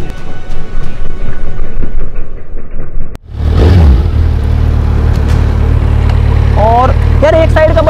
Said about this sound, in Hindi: करते हैं बाइक को स्टार्ट।